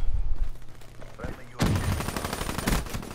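Gunfire in Black Ops 3, starting with a muffled burst and then breaking into a loud, sustained rattle of rapid shots that fills the second half, with some background voice underneath.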